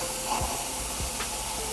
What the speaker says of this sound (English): That's a juicy hamburger right there. Listen to that sizzle.